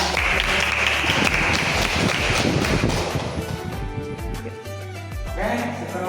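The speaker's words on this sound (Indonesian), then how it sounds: "Tepuk tangan untuk Anda." A burst of applause in a classroom for about three seconds that fades out as a sustained musical tone takes over.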